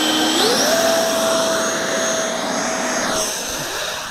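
An RC F-22 Raptor model jet, driven by a 70mm ducted fan with a 2200kv motor on 6S power, spools up to full throttle with a sharp rising whine. It settles into a loud, steady high-pitched roar that fades slightly at the end.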